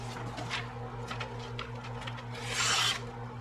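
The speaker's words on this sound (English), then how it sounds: "stage 2 and stage 3 are when you're putting an edge back on after you've done the initial grind" A blade is drawn through a manual knife sharpener on the finishing stages, giving repeated near rasping strokes that grow louder toward the end over a low steady background hum.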